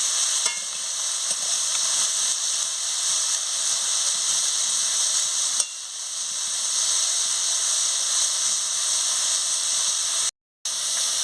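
Pumpkin, potato and bitter gourd fry in a pan with a steady, close sizzling hiss that runs the whole time, broken only by a brief dropout near the end; no one speaks.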